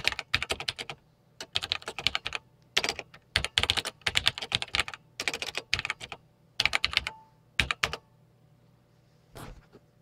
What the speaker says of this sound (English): Excuse me while I type a reply.